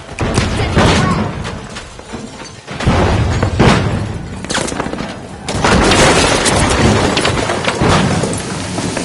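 Frag grenade explosions in the video game The Finals: several loud, close booming blasts with crackling debris and scattered gunfire between them.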